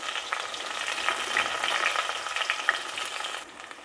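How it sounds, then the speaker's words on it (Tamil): Chopped shallots sizzle in a pan as they are fried, a bright, steady crackling hiss with small popping spits, close and loud, fading out abruptly at the end. "இப்போ இந்த வெங்காயத்தை நல்லா வதக்கிக்கிறோம்"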